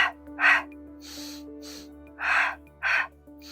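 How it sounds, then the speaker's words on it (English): Exaggerated Pilates breathing during a classical mat class: five or six forceful, breathy huffs, short and close, coming in uneven bursts over a low steady background. "I am exaggerating my breath right now, guys, just to teach you how the Pilates breathing works."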